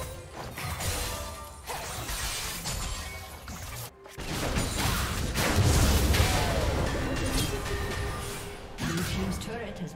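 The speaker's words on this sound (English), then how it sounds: "Blue team's turret has been destroyed." A turret crumbles in a League of Legends match as heavy crashing, smashing impacts and rumbling debris mix with game effects over several seconds, loud and dense, with brief breaks in between.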